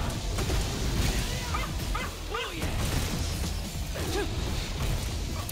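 A giant electric dog monster in Monster Hunter World Iceborne snarls and yelps in short whimpering bursts, two clustered near the middle and one later, over steady game battle noise.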